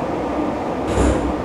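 Metro train rumbling in the Metrostroi simulator, a steady low mechanical drone with a brighter hiss and hum rising near the end, close and continuous with no talking.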